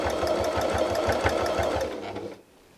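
A sewing machine zigzag-stitches a fabric butterfly appliqué on a quilt, giving a steady rapid needle rhythm close by for about two seconds before slowing and stopping.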